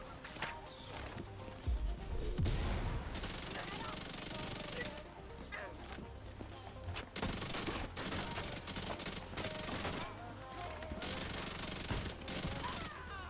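Chatterbox SMG gunfire in The Division 2 video game, sustained rapid automatic bursts with brief gaps, loud and dense against busy game ambience.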